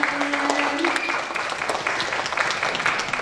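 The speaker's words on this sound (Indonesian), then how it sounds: "Tepuk tangan." Audience members at a dance practice-as-research discussion session clap for a few seconds, a moderately loud, even patter of many hands, with a voice briefly present at the start.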